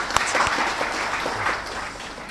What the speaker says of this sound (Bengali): আপনাদের সবার জন্য আমরা সব একটা হাততালি দিই।